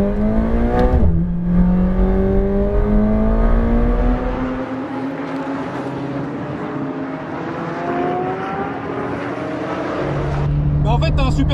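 A car on a race track accelerates hard, its engine whine climbing steadily in pitch through repeated gear pulls, loud and close, before briefly easing and revving again near the end.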